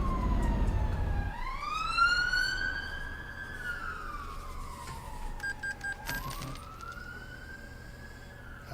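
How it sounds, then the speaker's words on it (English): A police car siren wails in long rising and falling sweeps, heard at moderate distance over a low background rumble while a truck driving game plays. "I'm assuming that police car is in the real world and not in the game."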